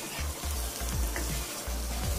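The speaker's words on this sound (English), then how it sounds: "Now fry it for a few minutes." Spicy mutton roast with coriander and curry leaves fries in a pan, giving a steady close sizzle with occasional soft stirring scrapes underneath.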